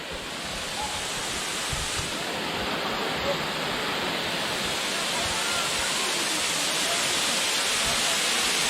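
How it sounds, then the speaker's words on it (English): A waterfall in San Sebastian, Puerto Rico, gives a steady, loud, broadband roar of rushing water that fills the whole stretch without pause. "That is the waterfall."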